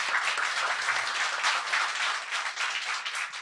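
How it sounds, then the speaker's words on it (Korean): Audience applause at a Korean talk-show recording, a steady dense wash of clapping throughout, moderately close and without speech over it. "박수 부탁드립니다."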